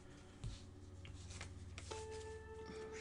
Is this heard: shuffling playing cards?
yes